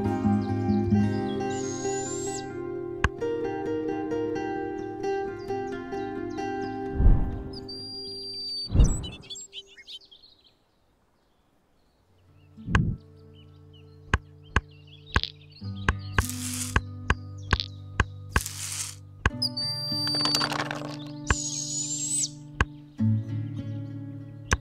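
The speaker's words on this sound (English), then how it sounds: "Catbirds mimic other birds and also have a call that sounds like a cat meowing." Gray catbird calls from the board video game Wingspan on Nintendo Switch: repeated high chirps, whistles and mewing notes over synthesized music and game clicks and thumps, with a brief quiet gap midway.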